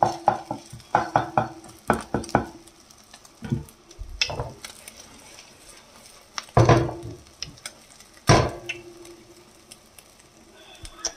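An egg omelette frying in a pan, with irregular bursts of scraping and stirring from a utensil over a low, continuous sizzle, loud and close.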